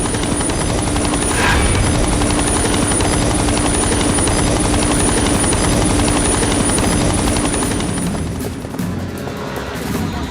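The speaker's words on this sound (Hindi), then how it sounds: "हेलीकॉप्टर की आवाज से कहीं वो तुम्हारी बहन को नुकसान न पहुंचाए।" A helicopter flies close by with a loud, steady rotor and engine roar that holds throughout and eases only slightly toward the end.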